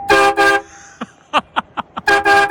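Loud, blaring blasts from a train horn installed on a Toyota Tundra pickup truck, two long ones at the start and two at the end, with short clicks and thumps in between.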